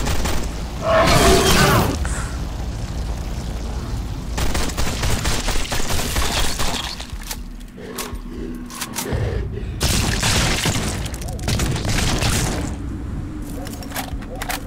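Loud explosions and rapid gunfire burst out in the zombie video game Zombeast, with heavy booms and cracking volleys separated by quieter gaps, and someone talks between them.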